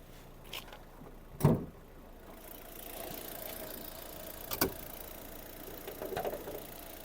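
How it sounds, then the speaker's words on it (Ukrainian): An Opel Zafira 1.8 engine idles steadily with a low, continuous rumble, interrupted by a few brief clicks and knocks. "Робота двигуна."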